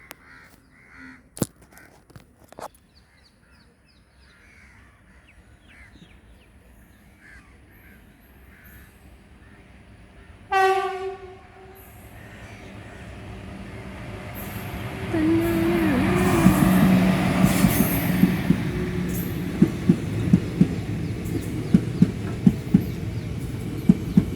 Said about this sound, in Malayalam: ട്രെയിൻ വരുന്നുണ്ട് കാണിച്ചു തരാവേ